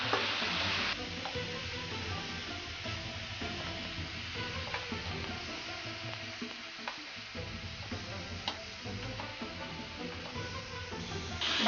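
Vegetable spring roll filling fries in a pan with coriander and cumin powder, a steady close sizzle with repeated scraping of a stirring spoon, no voices.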